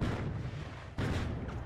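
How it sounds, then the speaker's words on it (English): Flashbang explosions in The Finals video game: two dull, muffled booms about a second apart, each with a rumbling low tail, moderately close and not overly loud. "He's still putting flashbangs."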